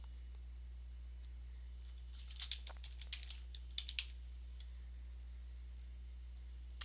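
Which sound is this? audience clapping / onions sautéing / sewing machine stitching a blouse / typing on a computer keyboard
typing on a computer keyboard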